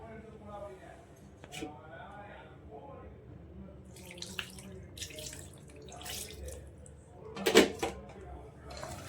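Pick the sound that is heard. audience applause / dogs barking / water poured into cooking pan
water poured into cooking pan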